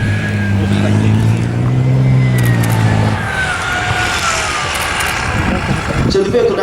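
A Scimitar 2 armoured vehicle's engine rumbles steadily at Tankfest, loud and close for the first few seconds before settling under crowd noise and a voice speaking nearby.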